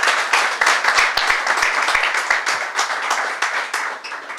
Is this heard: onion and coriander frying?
no